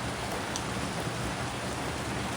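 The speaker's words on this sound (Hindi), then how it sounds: "एकदम बहुत ज़्यादा बारिश होनी शुरू हो गई है" Heavy rain pouring down in a steady, dense hiss, constant and fairly loud from start to finish with no pauses and no talk.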